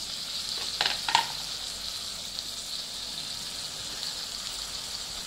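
Pieces of eggplant sizzle steadily in a hot pan for aloo baingan sabzi, a soft continuous frying hiss with a few brief louder crackles near the start, close and alone without talk.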